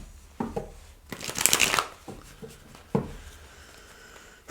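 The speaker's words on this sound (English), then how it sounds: "I'm going to give this another quick shuffle" Tarot cards being shuffled by hand in quick papery bursts, with a longer riffle in the middle and softer taps and slides around it, close and fairly quiet.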